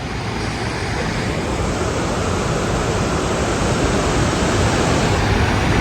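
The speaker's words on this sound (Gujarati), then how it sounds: "જ્યારથી હોટલ પાસેથી ચાલુ કર્યું ત્યારથી આ નદી ચાલુ છે" A river rushes alongside the mountain road toward Gangotri, giving a loud, unbroken roar of water. It holds steady throughout, with no voices over it.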